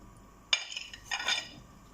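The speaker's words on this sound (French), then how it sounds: "L'eau est chaude, je rajoute maintenant les asperges à cuire" Asparagus dropped into a pot of hot water for asparagus soup: a sharp clatter at the start, then a cluster of lighter clinks and splashy knocks against the pot, fairly close, with no talking.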